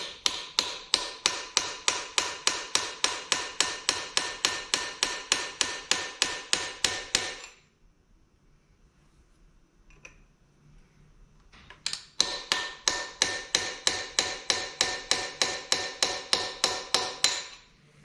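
A hammer drives a chisel against one ear of a nut on the front axle of a 1959 NAPCO Chevy Apache 1-ton truck. Rapid, evenly spaced metallic strikes ring close and loud, pause for several seconds, then resume at the same steady pace.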